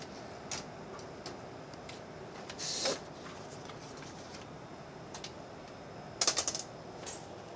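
Keys strike on a 1959 Olympia SM-3 two-tone manual typewriter, sparse light taps scattered through a quiet room, with a couple of brief louder rattling bursts near the middle and toward the end.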